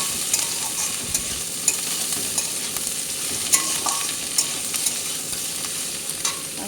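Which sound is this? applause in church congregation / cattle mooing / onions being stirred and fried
onions being stirred and fried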